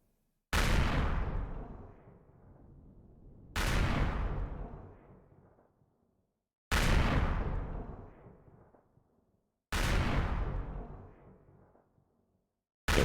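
Cannon salvos from a ground attack capital vessel with four cannons in the space survival game Empyrion, four loud booming blasts at regular intervals, each with a long rumbling decay, no talk.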